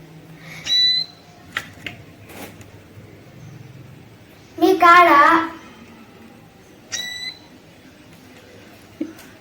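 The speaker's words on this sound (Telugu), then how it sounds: "ఆ పక్షులు అయితే కీ కీ కీ అని అరుస్తున్నాయి" A baby sparrow chick separated from its mother gives a few short, high, thin cheeping calls in scattered bursts, close by, while a person speaks briefly in between.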